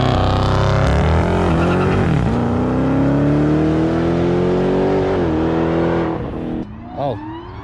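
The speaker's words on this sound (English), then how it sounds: "so he's gonna do a launch with traction control on," A 2018 Dodge Challenger launching with traction control on, its engine revving hard in a loud sustained roar that climbs in pitch and then drops off near the end, heard close with a voice talking over it.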